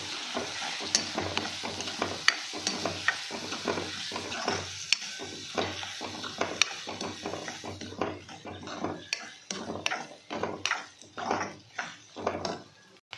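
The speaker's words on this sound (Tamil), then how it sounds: "இப்போ நல்லா கிண்டிக்கலாம்" Carrot and egg are stirred in a frying pan, a soft sizzle under repeated scraping strokes of a spatula, steady at first and turning into sharper, irregular scrapes toward the end.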